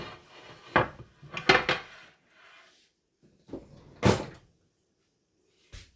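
A baking pan comes out of a kitchen cupboard with several sharp metallic clanks and knocks of pans and wood, spaced irregularly over a few seconds, close and fairly loud with quiet gaps between.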